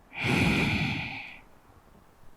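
A single long, close breath during a home yoga session, a deep airy exhale that swells quickly, holds for about a second, then fades into quiet.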